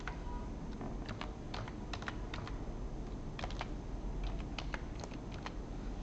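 Steady computer keyboard typing while a password is entered, with quick irregular key clicks in short bursts and brief pauses, close and moderately quiet over a soft steady background hiss.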